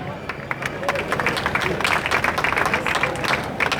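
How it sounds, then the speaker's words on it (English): A crowd applauds at an urban centre opening ceremony, with dense, continuous clapping that stays loud and steady throughout. "Please keep the applause going strong."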